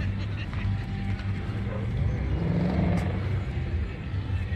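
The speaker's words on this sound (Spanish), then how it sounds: "Coche va para abajo." A car rolls past at an American car festival in Navarcles, a steady low engine rumble continuing throughout with faint background noise and no clear talk.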